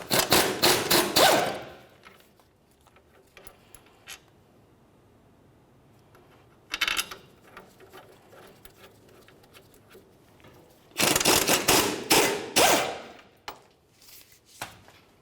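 A 21mm brake bracket bolt being removed on a 2004-2015 Nissan Titan, with close bursts of rapid ratchet clicking in three separate runs and quiet handling sounds between them, no talking.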